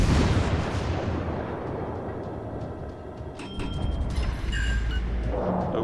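Heavy bomb explosions in the World of Warships Legends naval game, dense booming rumble sustained throughout with a few brief higher metallic crackles and tones layered on top, loud and continuous without speech.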